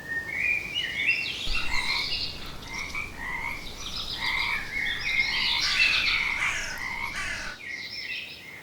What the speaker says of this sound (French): Grenouilles, corneilles ou criquets célébraient en chant polyphonique l'admirable grand sage de la